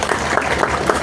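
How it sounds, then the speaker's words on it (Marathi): Audience at a Marathi comedy kirtan clapping, a loud, close burst of rhythmic clapping in quick regular beats over about a second. "टाळ्या वाजवा."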